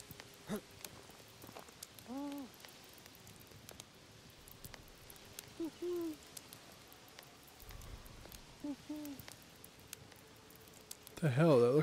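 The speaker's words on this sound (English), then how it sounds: "So we gotta hunt an owl." An owl hooting in the video game Medieval Dynasty, a few soft repeated hoots spaced several seconds apart, faint over a quiet ambient background with occasional small clicks.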